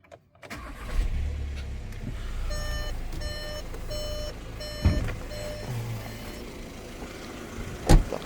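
A Volkswagen Passat or Touran with a two-litre 110 kW engine cranks and fires up, then settles into a low idle while dashboard warning chimes beep in a regular series, with a couple of short thumps.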